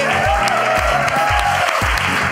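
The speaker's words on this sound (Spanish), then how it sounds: "Un gran aplauso también para la sala Superlativo" An audience at the Superlativo venue applauds after a live comedy show, with steady clapping over a regular beat of low thuds.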